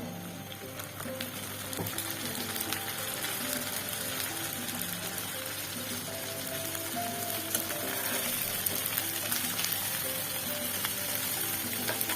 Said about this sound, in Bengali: শুটকিগুলো তেলের মধ্যে বেজে নিব